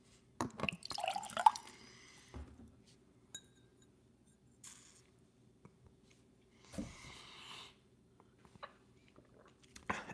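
Four Roses whiskey is poured from a sample bottle into a glass, with small liquid drips and a glassy clink, fairly quiet and close. Soft voices murmur in the background.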